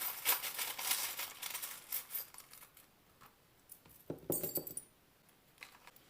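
Small tarot charms tossed onto a surface give a series of light metallic clinks and rattles, with a busy scatter early and a short bright burst near the end, close and fairly quiet, with no talking.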